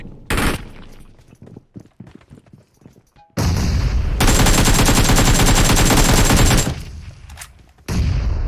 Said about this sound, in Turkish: Bomba attı.